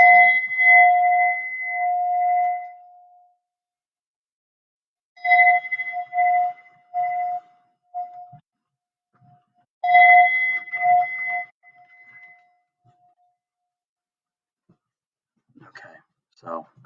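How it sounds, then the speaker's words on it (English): Meditation chimes are struck three times several seconds apart, each clear tone ringing out and slowly fading into silence, followed by a few faint soft sounds near the end. "I'll start with a little bit of chiming."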